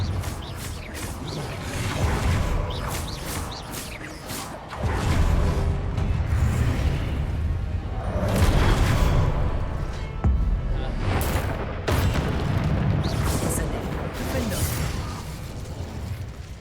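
A Confringo explosive spell blasts in Hogwarts Legacy, a loud burst with whooshing magical crackle amid dense, continuous game combat sounds and bursts of other spell effects.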